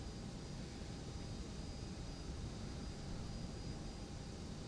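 Steady broadband jet engine roar of an Emirates Airbus A380 taxiing in the X-Plane 12 flight simulator at Paris Charles de Gaulle, constant and unbroken at moderate level with no talk.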